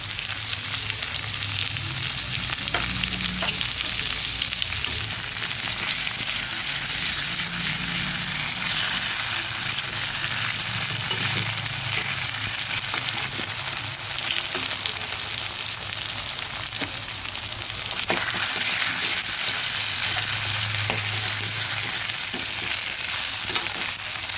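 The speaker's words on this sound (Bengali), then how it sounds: "আদা রসুনটা ভালোভাবে ভাজা হতে দেব।" Ginger garlic paste fries in a pan with a continuous close hiss and sizzle, steady and even in level, with faint low tones beneath and no voices.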